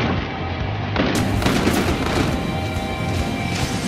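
Video game gunfire in Battlefield: Hardline, a dense, continuous barrage of shots and crashes that fills the whole stretch at loud, even volume, with no pauses.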